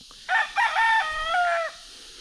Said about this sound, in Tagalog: may mga manok diyan, madali sila magtubo pag may manok.